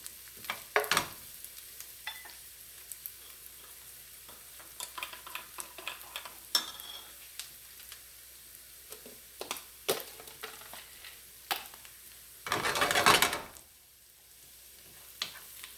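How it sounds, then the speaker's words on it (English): Onions cooking in a pan, with a quiet, patchy sizzle broken by scattered clicks and scraping stirs, plus one louder burst of frying noise near the end. "because the onions are cooking"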